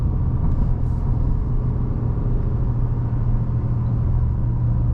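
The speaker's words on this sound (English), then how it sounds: "That is kind of interesting, that intake noise that they have, because it sounds a little" A 2026 Ford F-150 Lobo pickup accelerating in sport mode and holding fourth gear, heard from inside the cab as a loud, steady low engine and intake drone that keeps up without pause and has no talk over it.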